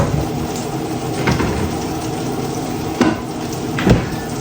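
Rice stir-fried in oil and butter for Filipino sinangag, a steady soft sizzle with a few louder scraping stirs of the spatula, close up and with no talking.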